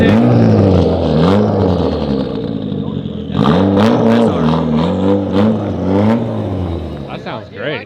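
A drift car with an SR engine revving hard in repeated bursts, loud and close, its pitch sweeping up and down, with people talking in between.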